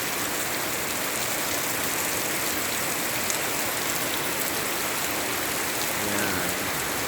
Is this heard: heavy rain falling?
yes